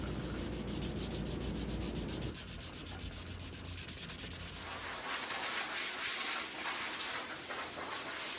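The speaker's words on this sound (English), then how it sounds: "now I can smooth all those rougher sand scratches out with the finer sandpaper" Fine sandpaper rubs steadily by hand over a steel-wheeled pinball machine under repair, smoothing out rougher scratches in a continuous close scraping hiss that shifts pitch partway through.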